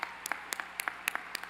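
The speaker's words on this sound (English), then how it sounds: "Let's give them a round of applause" Scattered clapping at a law school convocation, a handful of separate, crisp hand claps spaced irregularly rather than a full ovation, fairly quiet in a large hall.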